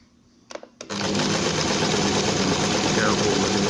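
Sewing machine stitching thick furniture fabric for a kitchen towel: a few soft clicks and taps, then the motor starts and runs in a steady, loud, close whirring drone to the end.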